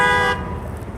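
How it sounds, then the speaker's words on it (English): A passing car on the street blasts a single short, loud honk that cuts off abruptly, leaving low traffic rumble behind. "This dude will honk. Give us a honk, brother."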